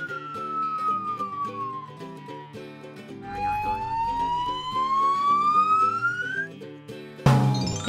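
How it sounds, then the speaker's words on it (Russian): Toy fire truck siren, a wailing tone that falls and then rises over a tinkling electronic jingle, close and steady, ending in a sudden harsh burst. "смотрите, это пожарная машина."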